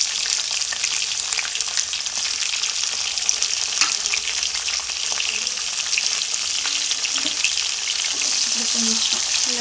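Tomatoes and coriander fry in oil for gongura pickle, a steady, fairly loud sizzling hiss with faint stirring clicks and soft tonal blips near the end, no talking.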